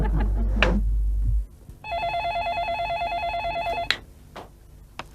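An electronic telephone ring on speakerphone with a warbling trilled tone sounds once for about two seconds, fairly loud and slightly boxy, after a low thump, with no speech.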